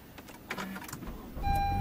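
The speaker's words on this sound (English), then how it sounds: "Car starts." A car's engine cranks and catches after the brake is pressed and the start button pushed, settling into a steady low rumble toward the end of the clip, with faint cabin noises before it.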